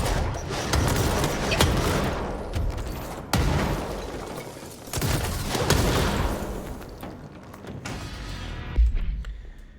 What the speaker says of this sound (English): Nothing like listening to your podcast in the background of grenade explosions